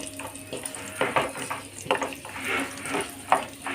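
Cashews and raisins frying in a pan, with a steady sizzle broken by intermittent stirring clatter and scraping, close and moderately loud, no voices.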